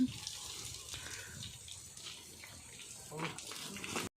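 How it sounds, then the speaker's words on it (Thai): Water splashing and gushing steadily as a mahout washes a female elephant, a continuous close wash of spray, with someone talking over it. "ตอนนี้นะคะพ่อควานนะคะก็ได้ ล้างตัวให้แม่ พังน้องใหม่นะคะ"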